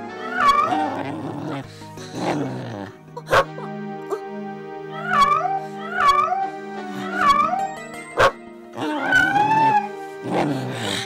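A person imitates a dog with a run of loud, close barks and yelps that come in short bursts. Whining, cat-like wails and sharp knocks are mixed in between them.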